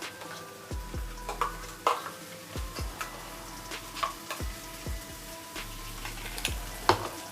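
A paste of ground tomato, onion, coconut, poppy seed and fennel fries in a chicken curry, giving a soft steady sizzle broken by frequent knocks and scrapes of a spoon stirring the pan.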